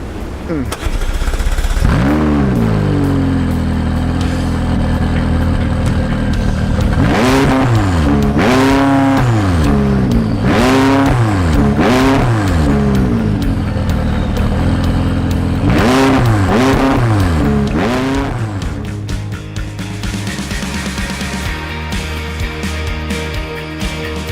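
A McLaren 540C sports car engine revs hard again and again, the pitch sweeping up and down in loud repeated bursts before settling to a steady rumble.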